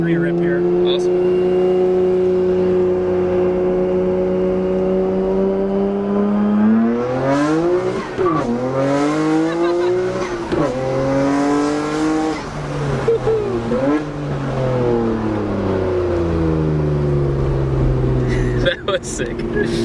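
Nissan Skyline GTR heard from inside, engine rising in pitch through three quick upshifts with brief dips between gears, loud and close, building to a hard pull, with people talking over it.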